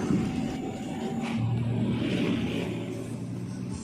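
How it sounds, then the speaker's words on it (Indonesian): A Suzuki Carry pickup's engine rumbles loudly with a buzzy exhaust note, holding a steady drone as it moves along, no voices. "Sebuah kolbak dari Suzuki Carry ya, melaju ke depan dengan suara knalpot yang aduhai"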